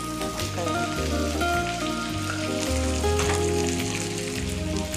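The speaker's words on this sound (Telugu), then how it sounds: "రొయ్యలు వంకాయలు బాగా ఫ్రై చేసుకోవాలండి." Prawns and brinjal frying together in a pan: a steady, close sizzle with crackling pops, continuing without a break and with no voices.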